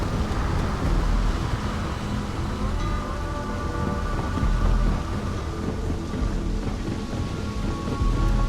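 Steady rain pours over the neon-lit city of Neon in the video game Starfield, with low thunder rumbling beneath the hiss throughout.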